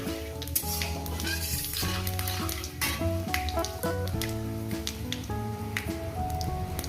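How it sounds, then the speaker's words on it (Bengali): Dried red chillies and panch phoron fry in hot oil for a masoor dal, a dense crackling sizzle with sharp spits, running steadily beneath background music. "পাঁচ ফোড়নটা দিয়ে দিলাম কয়েক মিনিট ভেজে নেবে"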